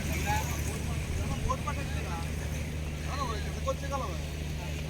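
A fishing boat's engine drones steadily out at sea with a low, even hum that never changes, while voices talk faintly over it now and then.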